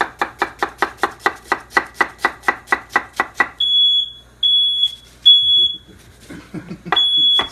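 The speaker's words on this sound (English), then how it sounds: "Setting off fire alarms." A smoke alarm goes off with a series of loud, piercing beeps right after a run of rapid, evenly spaced knife chops on a cutting board, with muffled kitchen clatter between beeps while beef and pork rouladen are prepared and cooked.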